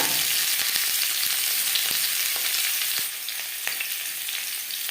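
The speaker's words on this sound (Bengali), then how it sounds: "আলু ভেজে নেব।" Small new potatoes, boiled then cut, fry in hot oil with a dense, continuous crackling sizzle and scattered pops, loud and close, easing slightly after a few seconds; no talking.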